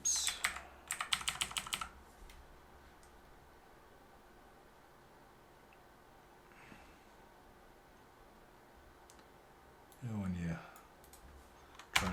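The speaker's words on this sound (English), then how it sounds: "try and stop typing there, but it adds more effort than you expect" Quick bursts of typing on a computer keyboard clatter near and crisp for about two seconds, then the room falls quiet before a voice speaks over faint clicks.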